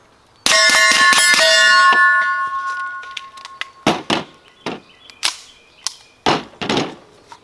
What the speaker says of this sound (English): we'll put 5 rounds on the head of this target.